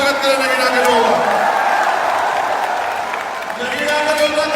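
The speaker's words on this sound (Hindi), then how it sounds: "दोनों हाथ उठा के ताली बजा के स्वागत करें नगीना के लोगों का।" A crowd applauds at a political speech, sustained clapping and crowd noise filling the space while someone talks over it through amplification.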